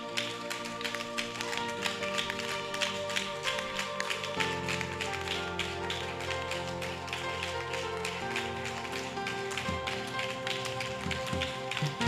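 Church congregation clapping steadily and rapidly in praise during a French-language evangelistic worship service, the dense rhythmic claps continuing throughout over sustained music.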